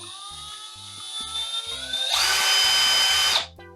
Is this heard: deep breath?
no